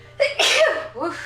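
A single sharp sneeze bursts out close by, followed by a short breathy exclamation from the same person.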